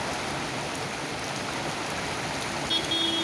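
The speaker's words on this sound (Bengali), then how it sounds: "কঠিনভাবে বৃষ্টি নামলেই মাত্র।" Heavy rain falling in Dhaka, a steady, dense wash of rainfall hiss heard from close by, with a faint distant vehicle horn near the end.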